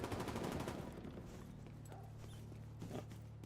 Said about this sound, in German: Da wird geschossen.